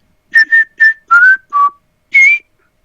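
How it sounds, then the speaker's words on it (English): Whistling in the video game The Last of Us Remastered: six short, clear tones in a halting tune, close and loud, with a brief pause before the last note. "She's basically gonna try to learn how to whistle throughout the game."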